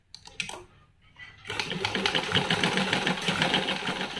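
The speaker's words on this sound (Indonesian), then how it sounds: "Terus kita jahit dulu kanan kirinya." A few soft handling clicks and taps give way to a sewing machine stitching steadily, a fast, even mechanical chatter as it sews the left and right sides of a pocket on a batik blouse with interfacing ironed on.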